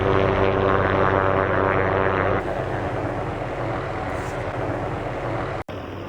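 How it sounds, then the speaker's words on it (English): A helicopter flying along power lines drones steadily overhead with a continuous rotor and engine roar that shifts in tone partway through, then briefly cuts out near the end. "I'm sitting here watching this helicopter fly along the power lines"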